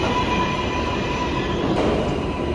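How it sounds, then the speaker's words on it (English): A New York subway train rumbles steadily underground, a continuous loud roar of wheels and car noise with a faint high whine, no voices over it. "My first New York subway experience."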